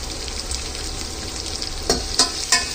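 Onions fry in oil with chilli and garlic for palak soppu saaru, giving an even close sizzle, then three sharp utensil taps near the end.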